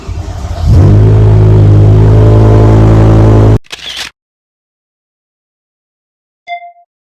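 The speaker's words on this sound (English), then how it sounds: "Now it's time to fire it up." A BMW E60 M5 engine cranks and catches, then settles into a loud, steady idle for about three seconds before abruptly cutting off, followed by a brief rustle, silence and a short faint beep.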